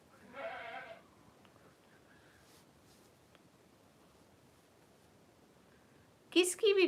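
A goat bleats briefly and loudly at the start, then a second louder bleat comes near the end, with quiet rustling background between the calls.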